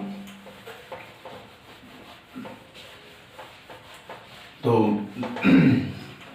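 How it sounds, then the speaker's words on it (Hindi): Writing being rubbed off a classroom board, a few soft scraping strokes, quiet at first and then two louder, closer swipes near the end, with a teacher's voice faintly present. "तो मैं इसको रब कर देता हूं।"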